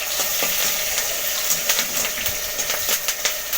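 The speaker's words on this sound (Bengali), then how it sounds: "কয়েকটি তেল দিয়ে দিলাম কালো জিরে কাঁচা লঙ্কা কালো জিরে দিয়ে একটু নাড়াচাড়া করে" Nigella seeds and green chillies frying in oil in a pan, a loud continuous sizzle with repeated scraping stirs and light clinks of the utensil, no voices.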